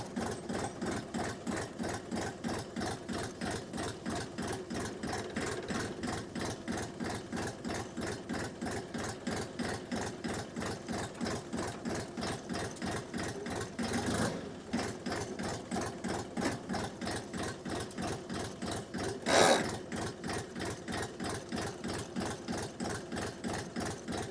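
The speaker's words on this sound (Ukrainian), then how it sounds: "Давайте спробуємо понижену передачу." A DTZ 5354 HPX mini tractor engine chugs in low gear with a fast, even mechanical knocking that runs steadily throughout at moderate level, with one brief louder bump near the end and no voices.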